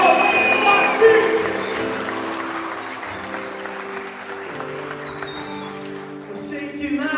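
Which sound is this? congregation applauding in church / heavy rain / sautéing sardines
congregation applauding in church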